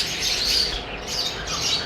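A breeding pair of Lutino Personata black-eyed lovebirds gives sharp, close chirping squawks in quick bursts over a steady background hiss.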